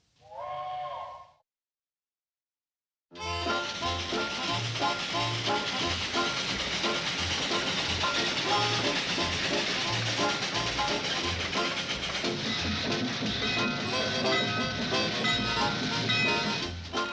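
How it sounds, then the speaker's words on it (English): A train pulls into a small country junction station, a loud, steady rumble with clanking wagons and hissing running continuously after a brief moment of silence. "train's in"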